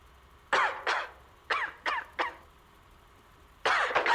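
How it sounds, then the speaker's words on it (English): Woman coughing outside in the Lies of P game, several harsh, raspy coughs in short bursts separated by quiet pauses, with a final longer fit. "I hear her coughing outside."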